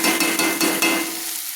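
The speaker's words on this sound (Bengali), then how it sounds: "ভালো করে মশলার সঙ্গে আমি কষিয়ে নিচ্ছি।" Potatoes stir-fried with spices in a pan, sizzling steadily while a utensil scrapes in several rhythmic strokes, then settling into a softer hiss; close by, with no speech.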